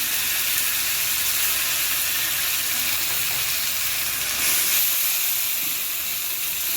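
Cumin and chili paste frying in hot oil while cooking paneer, a steady loud hiss and sizzle that fills the whole stretch with no talking.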